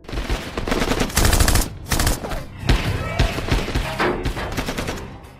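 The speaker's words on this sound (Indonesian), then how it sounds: "Kemudian terjadilah baku tembak dengan Vero dan anak buahnya." Gunfire in an action film shootout, loud rapid automatic bursts and single shots in dense clusters with brief gaps, a narrator's voice running beneath.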